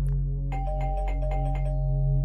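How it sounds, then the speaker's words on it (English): Doorbell chiming inside a house in the game Tiny Bunny, a clear ding-dong tone ringing out with a sustained hum beneath, no one speaking. "Ding dong!"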